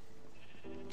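A sheep in the Minecraft video game bleats once, briefly and fairly faintly, near the end of a short moment of low game background noise.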